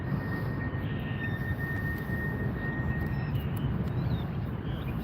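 An Airbus A320 airliner arriving at Las Vegas airport gives a steady, broad engine roar at moderate distance, holding constant throughout with a faint high whine above the rumble.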